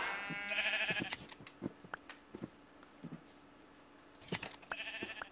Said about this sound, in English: Boy, there's so many sheep over here.